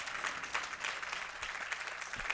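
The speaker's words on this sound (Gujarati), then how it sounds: "આપણે એકવાર એમને ખૂબ જોરદાર તાળીઓથી વધાવી" Steady crowd applause at a Mahakumbh religious gathering welcoming a swami, a dense, even patter of many hands clapping at moderate distance, fairly quiet and continuous throughout.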